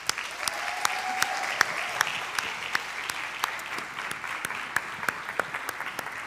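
A church congregation claps for its volunteers, producing moderate applause with sharp individual claps standing out irregularly, somewhat sparse in a half-full room.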